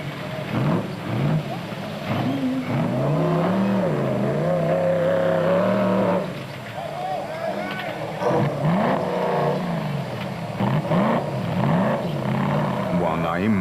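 A rally car in the Sun City 400 rally, driven by Naim Musaji, revs its engine hard at high rpm on a bridge, a loud rising and falling engine note near by, with a voice talking over it.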